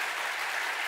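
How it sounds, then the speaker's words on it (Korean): A church congregation claps steadily to welcome a newly registered elder and his wife at a Sunday service, a dense, even burst of applause throughout. "박수."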